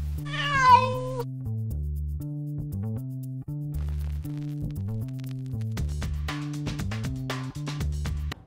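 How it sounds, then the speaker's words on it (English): A cat meows once, a drawn-out wavering call, then a steady droning electronic tone with rhythmic pulsing continues underneath. "Keep trying, and you'll find that kitty cat."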